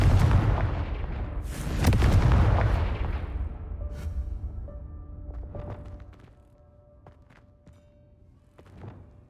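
Confringo fire-spell blasts in the Hogwarts Legacy video game: two heavy booming explosions in the first few seconds, then a fading rumble with scattered sharp impact clicks and a final thud.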